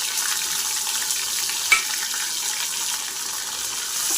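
Chopped onions sizzle in hot oil over already-tempered spices, a steady close frying hiss with a single sharp clink of a spoon partway through.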